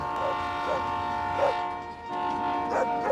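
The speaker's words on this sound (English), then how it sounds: "mechanical sounds of the trains on the horizon" A train rumbles steadily in the distance, its drawn-out horn tones swelling and fading several times over a constant mechanical drone.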